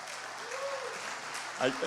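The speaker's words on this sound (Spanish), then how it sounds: "Dense un aplauso" Church congregation applauding during a family service, a steady moderate wash of clapping with a voice speaking briefly near the end.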